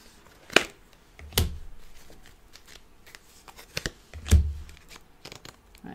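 Tarot cards are shuffled, drawn and handled close up in a few sharp papery bursts of snapping and riffling, with quiet rustling between them and no talk.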